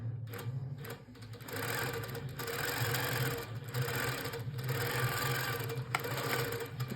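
Handi Quilter Pro Stitcher quilting machine stitching rows on a quilt, a steady mechanical whirring broken by a few brief pauses between runs, close and alone.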